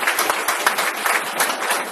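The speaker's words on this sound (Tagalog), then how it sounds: "Palakpak naman ng konti." An audience at a business opportunity presentation breaks into brief, dense applause, a steady patter of many hands clapping close by with no talk over it.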